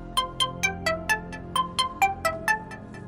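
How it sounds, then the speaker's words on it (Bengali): A mobile phone ringtone plays in a Bengali detective audio story. It is a bright, melodic run of about a dozen evenly spaced chime notes, rising and falling, clear and alone. "আর তখনই রিভুর ফোনটা বেজে উঠল"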